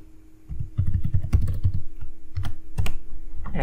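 Fingers type on a computer keyboard, producing a quick, close run of light key clicks and taps that continues steadily for a few seconds.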